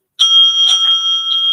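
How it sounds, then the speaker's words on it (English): A debate timekeeper's bell rings sharply, struck twice in quick succession with a clear metallic tone that lingers and rings on after the strikes. "At the end of the 8 minutes, the bell will be rung twice"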